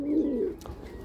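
Pigeons of a classic breed in a loft, one close soft coo that rolls low and then fades, followed by a faint rustle, quiet and brief.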